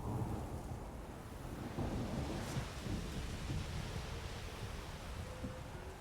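A low, continuous rumble of thunder rolls through steady rain during a storm in The Witcher 3, fairly faint and distant, with no voices over it.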